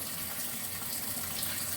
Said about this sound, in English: I like to wash my collard greens in the sink because they get thoroughly clean.